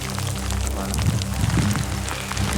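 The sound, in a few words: rain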